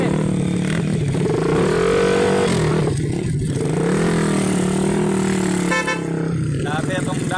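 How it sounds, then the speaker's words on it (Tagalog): Motorcycle engine straining and revving over a rough, bumpy road, loud and continuous throughout, with a horn toot near the end and excited shouting voices over the engine. "Bulingit yung motor."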